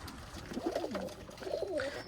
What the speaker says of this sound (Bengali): একটু বুড়ো কবুতরগুলোর সাথে আপনাদের পরিচয় করে দেবো